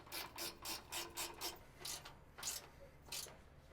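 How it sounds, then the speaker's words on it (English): Bolts on an aftermarket rear bumper of a 2021+ Ford Bronco being tightened by hand with a ratchet, giving quiet bursts of rapid clicking in a rough rhythm, about seven short strokes with brief pauses between. "then we'll tighten those bolts down from the back side here"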